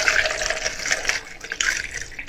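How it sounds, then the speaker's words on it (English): Homemade hawthorn berry tincture steeped in vodka is poured from a jar into another container, a steady splashing trickle of liquid close by with brief surges as the flow shifts. "So I'm just going to pour"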